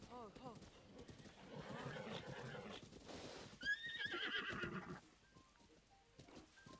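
Horse whinnying and clip-clopping hooves in Zelda: Breath of the Wild, a short neigh followed by hoofbeats under a voice speaking French, with game music and effects around it.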